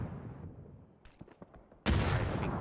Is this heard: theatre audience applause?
no